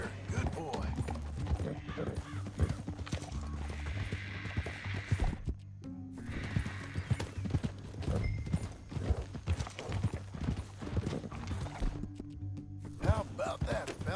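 Horse hooves clip-clopping in Red Dead Redemption 2, a brisk repeated rhythm of fairly quiet hoofbeats that pauses briefly twice, with talk over parts of it.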